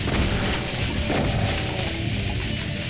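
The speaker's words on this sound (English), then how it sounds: "Wait until enough of them are down there and grenade them." A loud, sustained blast and rumble from a grenade explosion in Brutal Doom, filling the whole moment with heavy crashing noise and no talking.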